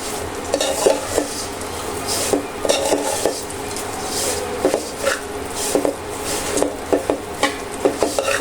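Ghee sizzles in a pan while a spoon or spatula stirs and scrapes, giving a steady frying hiss with frequent metallic clinks and knocks against the pan's sides, close and fairly loud, with no talking.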